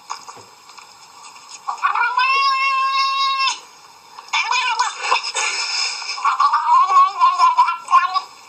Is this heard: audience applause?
no